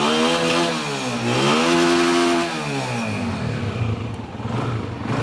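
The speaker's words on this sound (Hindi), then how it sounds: "साउंड सुने जी, होंडा 125" A 2012 Honda 125 motorcycle engine revs up close, its pitch rising and then falling in a loud, rough buzzing sweep before settling back to a lower, uneven idle.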